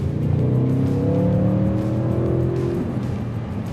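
A 2022 Audi RS6 Avant engine revs hard and climbs steadily in pitch under acceleration, loud and close, with a rising tonal whine across several seconds.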